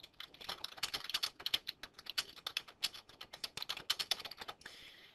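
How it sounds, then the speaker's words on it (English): Quick, uneven clatter of keys as a comment is typed on a computer keyboard, close and fairly quiet, ending in a short pause and a softer rustle. "Another thing you can do is just type a comment."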